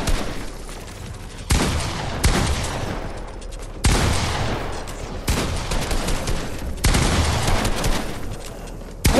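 Gunfire in Fortnite realistic solos, several loud bursts of rapid shots separated by brief pauses, close and dominant with little talk.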